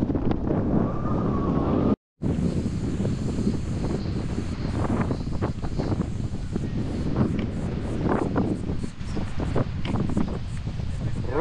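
Strong wind blows outdoors at an old village, buffeting the microphone with loud, continuous gusty rumble and rustle, broken by one brief dropout, while people talk faintly underneath.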